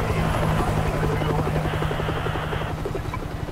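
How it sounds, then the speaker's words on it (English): Rhythmic thumping of military helicopter rotors in the video game World War Z fills the clip, loud and steady, with a low engine drone underneath. "Is that a helicopter?"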